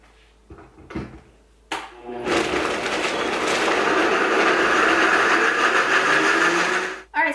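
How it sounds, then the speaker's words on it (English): A kitchen blender whirs steadily as it purées homemade hot sauce, running loud and continuous for several seconds after a few brief clicks, then cutting off near the end. "now that our hot sauce is blended, let's take it out of the blender and put it into a container"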